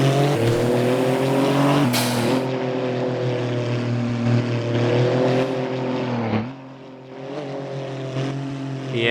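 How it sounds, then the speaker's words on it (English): A car accelerating in the video game Driving Empire: a loud, steady engine drone with layered harmonics that climbs slightly in pitch, with a brief shift near the start and a dip in loudness toward the end. "that acceleration sound is unique because there's no other car with this acceleration sound ever."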